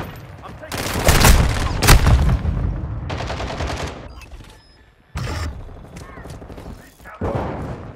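In Call of Duty Modern Warfare II, a frag grenade blows up amid heavy gunfire, with loud booming blasts and rattling shots coming in bursts. A short lull follows before more firing, and in-game voices call out over the chaos.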